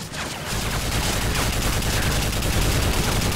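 Dense, continuous bursts of automatic gunfire in Call of Duty: Modern Warfare 3, rapid and loud throughout, with almost no pauses between shots.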